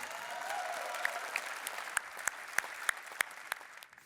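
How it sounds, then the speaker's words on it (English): Applause at a keynote on applied AI and automation, heard faintly and at a distance, thinning out into a handful of sharp, separate claps before it fades. "maybe you give the applause first"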